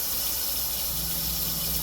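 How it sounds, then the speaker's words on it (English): A water pump runs in a van with a steady low hum under a constant hiss of flowing water, unchanging throughout. "the pump is running"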